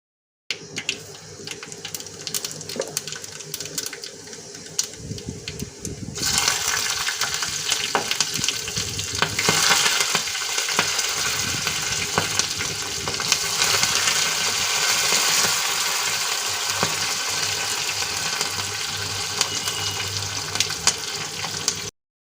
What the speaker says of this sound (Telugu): ఆయిల్ ఇట్లా వేసుకొని తాలింపు అయితే రెడీ చేస్తున్నాను